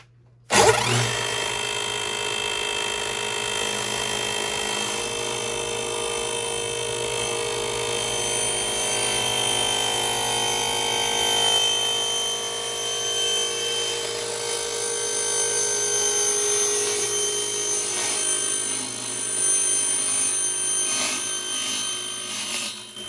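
A table saw whirs continuously and loudly close by, its blade being raised up through a new zero-clearance throat plate, a sustained tonal whine with a slight shift in pitch but no break.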